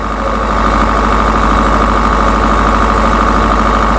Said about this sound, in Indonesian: Nanti akan kita tes, kita cek beban di genset.